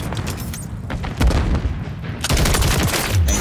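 Rapid bursts of gunfire from a new LMG in a first-person shooter game, loud and close, coming in dense rattling volleys with a brief lull partway through.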